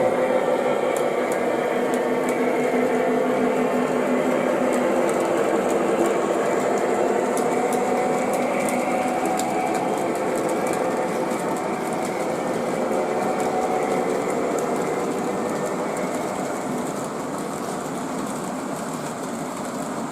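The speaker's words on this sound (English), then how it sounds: "The first thing I want to do is make sure the train runs through the yard." An O gauge model train rolls through a grain yard layout, a steady close whirring motor hum with faint rhythmic clicking of wheels on track, continuing alone without speech and easing slightly toward the end.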